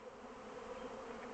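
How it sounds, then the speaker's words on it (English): A vast swarm of honeybees fills the sky, heard as a constant, faint buzzing drone from many insects at a distance, with no voices over it. "We have no shortage of honeybees."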